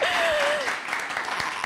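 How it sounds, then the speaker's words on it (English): An audience claps together in a short, lively burst of applause, with a voice briefly heard over the start. "Please give yourselves a round of applause."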